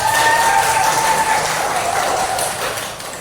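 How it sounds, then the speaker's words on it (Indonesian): A room full of people claps steadily for about three seconds, a dense, even patter of applause that tapers slightly toward the end. "Tepuk tangan untuk Mbak Intan."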